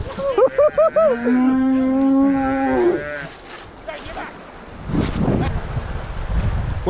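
Wild cattle being rounded up near a flooded river let out several loud, drawn-out moos in the first three seconds, close to the microphone, then wind buffeting and rough handling noise take over.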